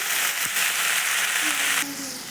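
Karadi (safflower) greens and mung dal stirred into hot oil in a pan, a steady bright sizzle running the whole time with a brief scrape partway through and a slight drop in intensity near the end.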